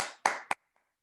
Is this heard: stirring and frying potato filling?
no